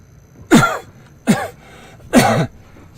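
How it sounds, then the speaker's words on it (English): Three short, harsh coughs spaced about a second apart, close and fairly loud, with near silence between them. "Sorry, I got a cough"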